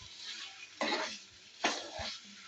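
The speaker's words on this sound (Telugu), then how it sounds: "చికెన్ వేసిన తర్వాత మంచిగా కలుపుకోవాలి, అడుగంటకుండా మంచిగా మెల్లగా కలుపుకోవాలి." Chicken pieces stirred in a pan, two distinct scraping sweeps of a spoon over a quiet, low sizzle, with a soft knock of cookware between them.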